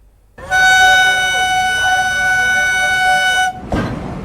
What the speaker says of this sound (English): Normalcy on the tracks as trains run on the restored railway lines in Bahanaga Bazar railway station.